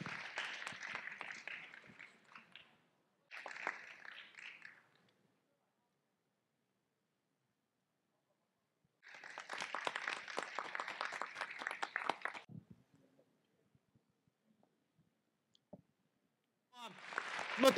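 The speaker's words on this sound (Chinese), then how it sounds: "我哋俾掌声佢哋啦，好唔好啊？" Audience applause at a Basic Law lecture for students in Hong Kong, where table tennis players signed autographs: two bursts of clapping from a crowd, separated by silence, with another burst starting at the end.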